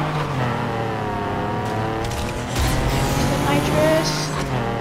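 A Ford F-150 and a Chevy Colorado race side by side in NFS Heat, their engines revving with a steady, rising drone as nitrous kicks in, while people talk over the racing.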